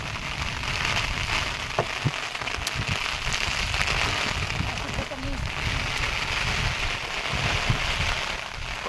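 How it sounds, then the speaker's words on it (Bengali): Heavy rain and storm wind in the Sundarbans, a dense, steady hiss of rainfall on surfaces with gusty low rumble, continuous and close throughout, with scattered louder drops. "যেমন বৃষ্টি তেমন ঝড়।"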